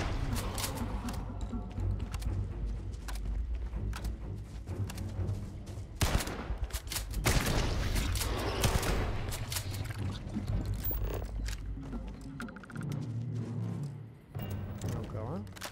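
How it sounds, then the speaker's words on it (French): Pump-action shotgun blasts from the space game Starfield, several loud shots mixed with combat noise while someone talks over the action. "Bon bah notre fusil à pompe là il fait des merveilles"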